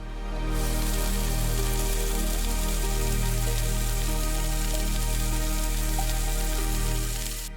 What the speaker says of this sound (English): layering ingredients on sizzling griddles